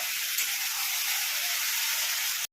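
Dried fish curry with soaked aubergine, salt, turmeric, cumin and coriander powder is stirred and fried down in a pan, giving a steady, even sizzle and hiss that runs unbroken and stops abruptly at the end.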